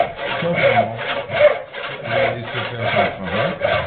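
A hand saw cuts through wood in steady back-and-forth strokes, a close, rhythmic rasping with no voices.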